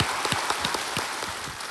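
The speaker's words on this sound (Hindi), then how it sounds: "एक बार फिर तालियों के साथ आपका अभिनंदन पंकज जी." Studio audience applause on the KBC quiz show stage, steady clapping with a few sharper individual claps standing out, close and moderately loud throughout.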